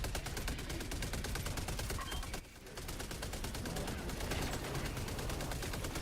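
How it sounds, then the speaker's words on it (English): Automatic vehicle-mounted turret in Helldivers 2 firing on its own during driving, a dense, steady stream of rapid gunfire that runs the whole time with only a brief dip partway through. "there's a turret that fires automatically while you drive with no gunner"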